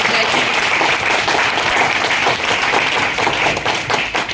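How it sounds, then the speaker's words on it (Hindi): Loud, dense applause from a crowd at a direct-selling business meeting fills the whole clip, steady and continuous with no speech over it. "मैं चाहूंगा एक बार उनके लिए जोरदार तालियां।"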